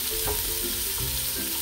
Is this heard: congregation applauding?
no